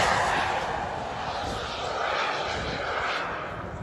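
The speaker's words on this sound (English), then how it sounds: "Coming in for a high-speed low pass, or kind of a medium-speed low pass." A model jet at an RC park in Saratoga Springs, Utah, sweeps past on a medium-to-high-speed low pass, a loud, steady broadband roar that holds strong for the whole few seconds with no voices over it.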